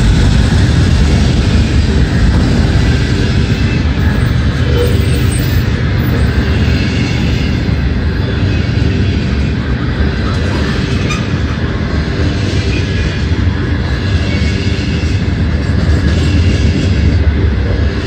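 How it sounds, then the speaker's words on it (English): A heavy northbound CSX freight train of covered hoppers rumbles past close by, a loud steady roar of wheels and rail clatter that holds for the whole stretch without letting up. "That's a heavy train."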